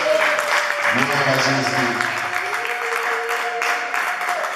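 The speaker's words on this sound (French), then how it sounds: "Est-ce qu'on peut applaudir pour Jésus?" Applause for Jesus at a French-language church service or sermon, a broad wash of clapping filling the room steadily throughout while a voice speaks and chants over it.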